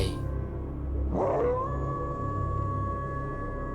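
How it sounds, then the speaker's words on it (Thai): A dog howls at night near the entrance of a residential lane, one long rising howl that swells and holds for a couple of seconds against quiet background noise. "เสียงหมาหอนโก่งคอดังมาจากต้นซอยอย่างไม่หยุดหย่อน"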